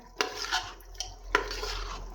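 A utensil stirs mixed vegetables with kasuri methi and coriander in a pan, making a few distinct scrapes and clinks against the metal over a soft background sizzle.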